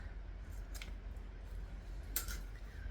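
Scissors snipping through zipper tape while sewing a bag, two short, crisp cuts heard close and quiet over a low background hum, with no talking.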